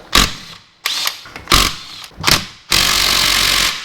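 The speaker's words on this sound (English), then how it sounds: "grab your socket again, take them out" A socket tool undoes gearbox bolts on a Classic Mini, with loud, close bursts of mechanical whirring: four short spins followed by one longer sustained run.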